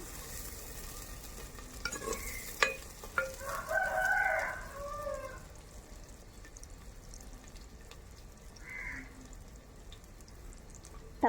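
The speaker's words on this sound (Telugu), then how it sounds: "ఒక రెండు ఉల్లిపాయలు వచ్చేసినాయి అనమాట సరిపోతుంది కొంచెం ఫ్రై చేసుకుందాం" Onions fry in a pan over a wood fire for chicken curry, giving a soft, steady sizzle, while a rooster crows in the distance a couple of times.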